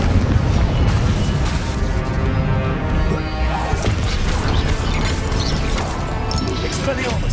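Spell combat in Hogwarts Legacy, including a Confringo explosive blast, a dense, loud run of booms and crashing impacts that continues throughout with no pauses.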